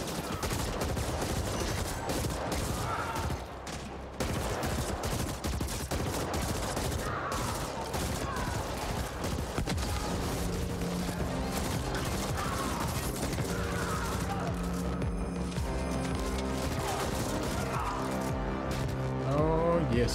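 Rapid bursts of gunfire and bullet impacts rattle through a video game firefight, dense and loud for much of the stretch, mixed with mechanical clatter and a humming tone, with occasional talking over it.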